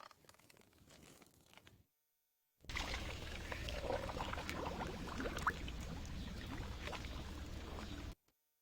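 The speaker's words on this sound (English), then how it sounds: "then we lower the pump into the water" A clear water submersible pump is lowered into water, giving a faint rustle and then a sudden, steady rush of splashing and pouring that runs for several seconds before cutting off abruptly.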